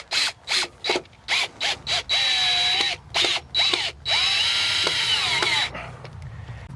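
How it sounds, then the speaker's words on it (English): A power drill drives screws into the cement board sides of a raised bed: a run of short, sharp whirring bursts, then several longer high-pitched spins, loud and close. "Just flip up the side and attach the screws."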